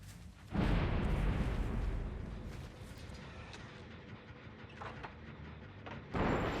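A loud explosion booms near the start with a long rumbling tail fading slowly, then a second sharp burst at the end, from a generator blowing up in the horror game Dead by Daylight.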